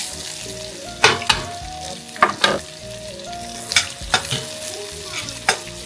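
Onions sautéing with ginger-garlic paste in a home kitchen pan, a steady sizzle broken by several scraping stirs of a spoon against the pan, close and clear with no talking.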